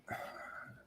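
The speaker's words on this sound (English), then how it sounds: "Let me clear my throat." A single brief, faint throat clearing, a raspy guttural rumble lasting under a second in an otherwise quiet moment.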